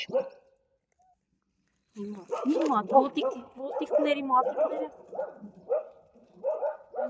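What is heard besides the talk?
dogs barking while protecting puppies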